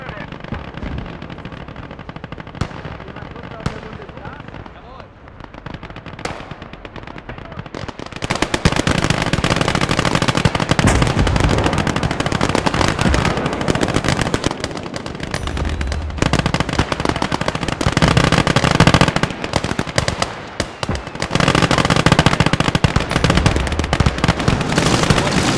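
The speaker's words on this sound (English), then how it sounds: "Deployed heavy artillery on the northwest. They're trying to bombard us from afar." In a war video game, dense gunfire and rapid machine-gun bursts crackle continuously, loud and layered, swelling into a heavier, thicker barrage partway through as an artillery bombardment joins in.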